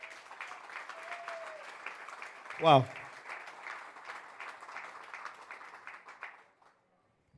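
A church congregation claps steadily for several seconds during a service, a moderate, even patter that fades out near the end, with a voice exclaiming briefly over it.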